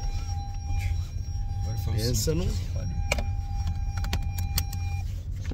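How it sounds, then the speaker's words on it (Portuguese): Car seatbelt warning chime inside a vehicle on a farm visit in the United States: a steady sustained electronic tone lasting several seconds over road rumble, with a person speaking partway through. "Pensa num barulho que esse carro faz se não coloca o cinto"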